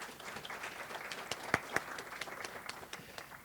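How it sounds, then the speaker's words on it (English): Audience at a library and information services honours and undergraduate research conference giving a round of applause, many hands clapping at moderate volume with a few sharper claps standing out. "can we please just give them a round of applause?"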